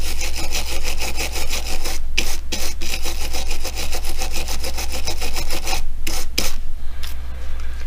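A brush loaded with WD-40 scrubs rapidly across a Hot Wheels diecast car, producing loud, close, rhythmic rasping strokes with brief pauses, over a low steady hum.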